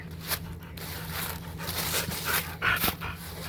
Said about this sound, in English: She is a crazy dog.